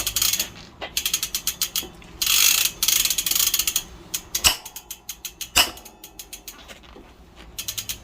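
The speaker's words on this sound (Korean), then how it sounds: "육각 렌치만 있으면 풀어주고 바로 탈거를 할 수가 있습니다." A hex wrench loosens tight bolts to remove the crank on the drive side of a Merida TFS 800 bicycle during an electric motor conversion, giving close, repeated bursts of sharp mechanical clicking and ratcheting with brief pauses.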